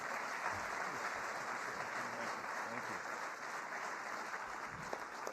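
Audience applause fills a White House event, a steady dense wash of clapping from a large crowd throughout, with a brief spoken word near the start.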